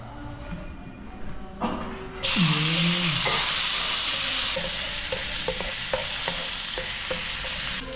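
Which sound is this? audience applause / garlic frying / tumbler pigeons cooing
garlic frying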